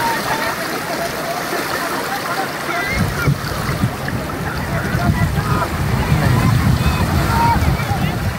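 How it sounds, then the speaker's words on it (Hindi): A small boat goes into the water at Hawksbay Beach, Karachi, with surf and wind rushing throughout and a rising roar of water and motion in the second half, while people talk nearby. "ये पानी में कश्ती उतरने वाली है"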